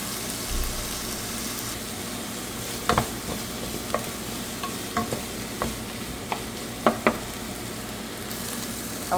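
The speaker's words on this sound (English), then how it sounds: "Let's fry that for a while." Onions frying in a pan, a steady soft sizzle broken by several sharp scraping stirs of the utensil against the pan, moderately quiet and close, with no one talking.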